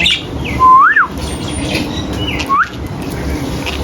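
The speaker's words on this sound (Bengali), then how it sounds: "আমার এখানে যে পাখিটাকে দেখতে পাচ্ছেন, এটা একটা বাজরিকা পাখি।" A budgerigar in a garden aviary gives two clear, close chirps, a rising warbled call followed by a shorter one, over faint background noise with no voices.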